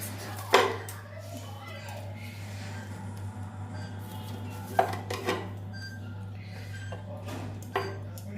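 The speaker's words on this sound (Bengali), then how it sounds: "এর পাউরুটিগুলো সাইডগুলো কেটে বাদ দিয়ে দেবো" A knife trims the crusts from slices of bread, giving a few sharp clinks and scrapes against a plate or board over a steady low hum, with quieter rustling between the knocks.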